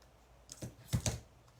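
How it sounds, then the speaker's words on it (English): A short run of crisp clicks and snips as card paper is trimmed shorter for handmade cards, three or four quick close cuts, fairly quiet with no voices. "Let's come in and trim this one too."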